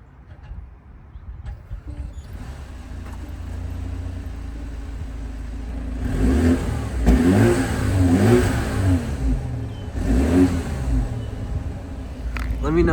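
A new BMW 5 Series revs from the front, a steady low engine hum rising into several swelling rev bursts partway through, fairly quiet and smooth, with voices faintly present.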